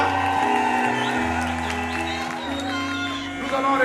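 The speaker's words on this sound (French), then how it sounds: "applaudissez très fort le Seigneur." Wedding congregation in a church applauds and cheers the Lord, scattered whoops rising over a loud band playing sustained music beneath.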